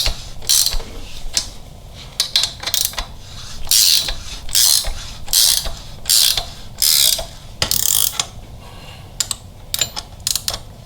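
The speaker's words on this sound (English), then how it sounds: "we can put a ratcheting wrench on there and make it a little quicker" Ratcheting wrench working on a Harley-Davidson Milwaukee-Eight engine during a cam install, loud close bursts of rapid clicking with short pauses between strokes.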